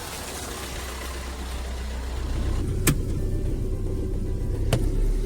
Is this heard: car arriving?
yes